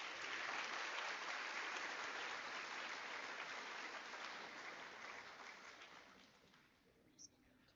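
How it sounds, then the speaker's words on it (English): An audience at an eighth-grade recognition ceremony claps in a full, steady round of applause that gradually thins and fades toward the end, leaving a few last scattered claps. "let's give them all a round of applause."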